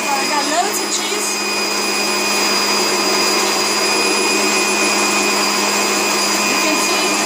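A food processor grating parmesan cheese on low speed whirs steadily with a loud motor drone and grinding hum, running continuously at an even pitch the whole time.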